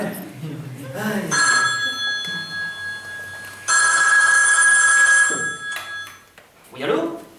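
In a French radio play, a telephone rings in two clear bursts of bright electronic trilling. People talk before the rings, between them and after them.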